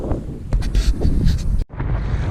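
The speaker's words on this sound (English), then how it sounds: "we've hit some really bad wind here" Strong wind buffets the microphone on open water during trout fly fishing from an Old Town kayak in big swells, a steady loud rumble with gusts and a brief dropout near the end.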